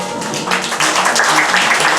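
Audience applause at a live stage hypnosis show, a dense steady crowd clapping that swells slightly louder partway through and carries on continuously.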